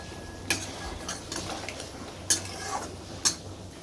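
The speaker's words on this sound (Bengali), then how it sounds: "এখন আমি এই বাসন কটা মেজে নিচ্ছি" Dishes and metal utensils are being scrubbed in a home kitchen, with a few sharp clinks and knocks of cutlery against pans over a soft background hiss, close and moderately quiet.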